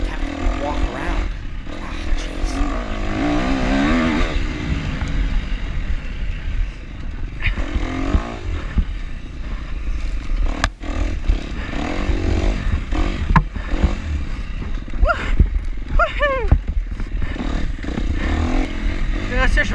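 An enduro dirt bike engine runs through snow, revving and sputtering up close with uneven throttle bursts, while people talk over the noise.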